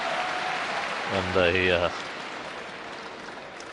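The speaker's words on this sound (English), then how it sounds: "vociferous response from the crowd here in Rotterdam." A crowd applauds loudly and steadily at a table tennis final in Rotterdam, with a commentator briefly talking over the noise.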